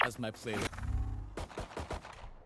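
Rapid bursts of pistol gunfire in a Thai-language video game match, several sharp loud shots in quick succession with a stretch of low rumble between them, while players talk over the action.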